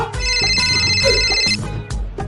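A loud electronic phone ringtone plays a bright tonal melody for about a second and a half, then fades as background noise continues.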